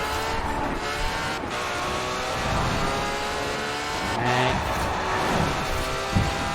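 Forza Horizon 4 car driving fast on a highway run: a steady loud engine roar with tire squeal and skidding, with revving swells throughout and a brief spoken word.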